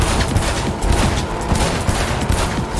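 Dense, continuous pistol and weapon fire from a firefight in the Cyberpunk video game, rapid overlapping shots forming a loud, sustained barrage throughout.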